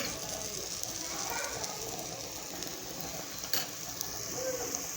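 Besan dhirde frying in a pan over a low flame as a little oil is added around the edges, giving a steady soft sizzle with faint crackles throughout.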